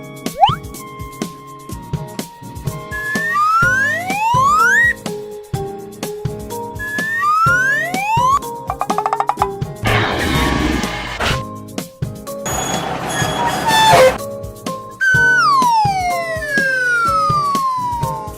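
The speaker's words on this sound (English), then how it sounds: "Ambulance." An ambulance siren rises and falls repeatedly in rising sweeps, broken by short noisy bursts and clicking sounds, loud and close throughout.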